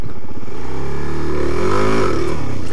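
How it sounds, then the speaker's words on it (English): A Suzuki DRZ400 dirt bike engine revs hard as the clutch is popped for a wheelie attempt, the loud, close note climbing sharply and then dropping away, with no talk. "That's what happens when you pop the clutch on a DRZ."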